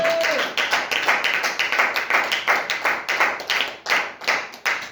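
A church congregation claps together to acclaim the Lord, with many hands striking in a steady, rhythmic beat of repeated sharp claps, fairly close and without talk.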